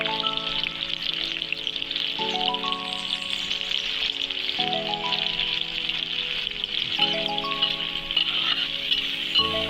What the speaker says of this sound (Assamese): তেলখিনি গৰম কৰি লৈ পিঁয়াজখিনি ভাজি লৈছোঁ প্ৰথমতে।